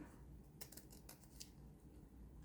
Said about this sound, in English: I'm going to glue that down, and then I'm just going to cut it. I'm going to cut that